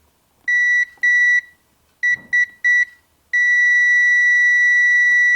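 A continuity tester on N scale model railway track gives a few short, clear beeps in uneven bursts, then settles into one long sustained tone.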